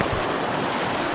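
Fast-flowing water of the Nameri river heard from a kayak, a dense, steady rushing wash filling the whole moment, loud and close with no voices.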